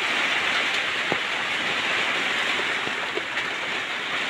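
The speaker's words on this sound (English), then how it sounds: "It's raining, guys." Rain pours down steadily at an off-grid homestead, a loud, even wash of falling water with a few faint knocks of drops striking surfaces, and no one speaking.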